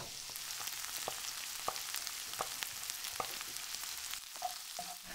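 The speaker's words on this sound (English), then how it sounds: "And I'm cooking down the chorizo and the smell coming off this is delicious and it's releasing all its oil" Chorizo frying in a pan, a steady close hiss and crackle of sizzling oil with scattered sharp pops throughout.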